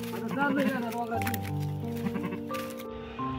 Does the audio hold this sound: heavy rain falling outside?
no